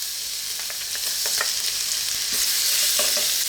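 Pork sizzling and frying in a pan as minced garlic is tossed in for Filipino fried rice, a steady loud hiss with scraping stirs throughout.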